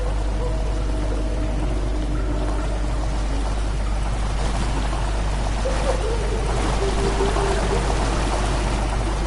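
Water rushing and pouring into a chamber in the game Amnesia: The Dark Descent, a steady, loud, continuous torrent with a deep rumbling undertone that swells slightly partway through.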